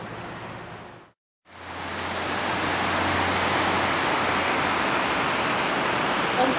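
A waterfall at Homestead Falls pours over Berea sandstone, a broad, steady roar that drops out for a moment near the start, then returns and holds full and constant.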